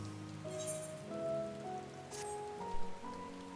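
Soft, steady rain falls in the fantasy video game Final Fantasy XIV, a constant gentle patter under sustained tonal background music, with no voices.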